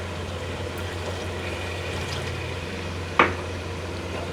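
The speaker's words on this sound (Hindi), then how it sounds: "हम थोड़ा सा पानी इसमें डालते हैं," A small splash of water hits frying nihari meat in a hot pan and sets off one brief, sharp burst of sizzle. Before it, a steady low frying hiss runs close by, and no one speaks.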